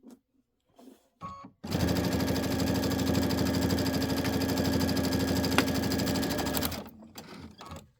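A sewing machine stitching a locking stitch on a quilt top runs in one steady, rapid mechanical whir for about five seconds, with brief clicks and handling noises before and after.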